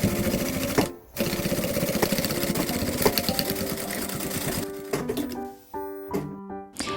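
Sewing machine stitching a bag lining at a 0.7 cm seam allowance, running in steady continuous bursts with a short pause near the start and stop-start stitching toward the end.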